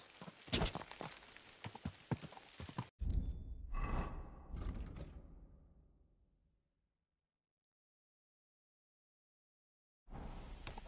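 Rhythmic hoof clip-clops from a horse in the video game Kingdom Come: Deliverance 2, fairly close and steady for a few seconds, then a brief burst, fading into silence before a short return.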